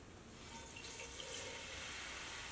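Water poured into a skillet in a home kitchen during a kids' no-microwave cooking session: a steady, continuous splashing hiss with no break, moderately close and with no talking over it.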